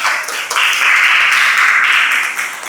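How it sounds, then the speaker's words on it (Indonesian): Students clapping together at the close of a classroom session on basketball passing drills, a fairly steady burst of applause that is moderately loud and fades after a few seconds. "Tepuk tangan buat kalian."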